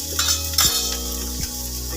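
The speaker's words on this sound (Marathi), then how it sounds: "तर आपण थोडं परतून घेणार आहोत." Capsicum sautéing with spices in a hot pan, a steady close sizzle and fry with a couple of brief stirring scrapes partway through.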